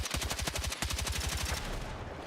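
Carbine fire in the video game Battlefield 6, a fast, even stream of close, loud automatic shots with a brief gap near the start, fading into a short tail at the end.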